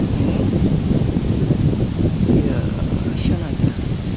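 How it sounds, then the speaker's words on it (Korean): Steady wind blows against a microphone outdoors at a modular housing site, a constant rumbling rush with faint rustle, while a high insect-like hum persists in the background. "바람 소리."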